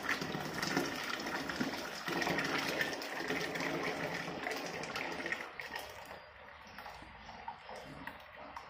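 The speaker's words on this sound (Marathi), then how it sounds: "इथं पाण्याला छान उकळी आली आहे." Water at a rolling boil in a pot for jowar papad dough, a steady bubbling hiss that fills the scene and eases slightly toward the end.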